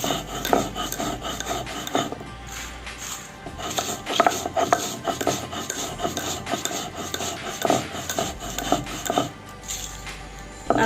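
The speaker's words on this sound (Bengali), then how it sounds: "আমি লবণ দিয়ে শুকনো মরিচটা একটু বেটে নেব" Dry chili and salt ground on a grinding stone, a steady rhythmic rasping and scraping with repeated strokes, close and clear with no talking.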